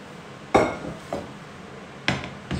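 A saucepan is pulled out from among other pots in a kitchen, giving four sharp metallic clanks and knocks spaced irregularly over a quiet background.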